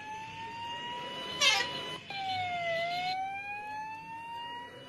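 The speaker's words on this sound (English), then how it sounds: "once the siren stops" An ambulance siren wails steadily in rising and falling tones, fairly faint and distant, with a brief burst of noise partway through and no speech.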